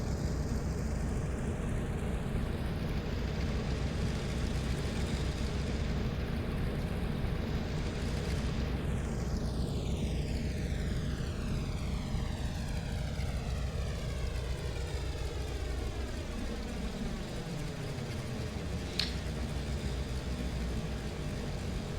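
A Douglas DC-3 in the Prepar3D flight simulator taxis with its twin radial propeller engines droning steadily. The engine tone shifts in pitch as the aircraft moves around, a loud, continuous rumble with no speech.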